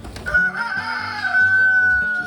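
Black Copper Marans rooster crowing on a farm, one loud, close, drawn-out cock-a-doodle-doo with a brief cluck just before it.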